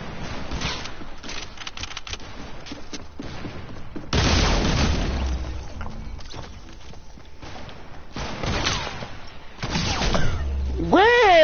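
Gunfire from a sniper in the Fortnite video game: several heavy, booming shots stand out from busy game sounds, with louder bursts midway and near the end, followed by rising electronic chirps.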